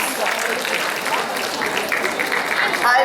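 Children applauding at a school event hosting an international film festival, a dense, steady wash of clapping that fills the whole stretch at close range.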